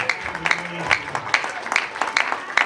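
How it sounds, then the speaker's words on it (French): A church wedding congregation applauding and cheering, dense rhythmic clapping from many hands with crowd noise and voices mixed in. "tu dois acclamer très fort pour la gloire de l'Éternel"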